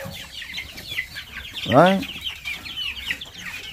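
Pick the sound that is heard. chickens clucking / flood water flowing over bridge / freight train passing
chickens clucking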